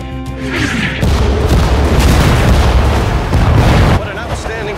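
Howitzer artillery barrage in Sudden Strike 4's El Alamein desert campaign: loud, continuous booming blasts layered over one another, with a voice talking over the rumble.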